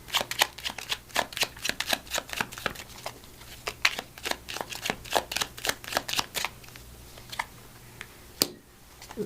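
A deck of Language of Flowers affirmation cards is shuffled in quick, crisp riffles, a steady run of close, sharp flutters with a brief pause near the end.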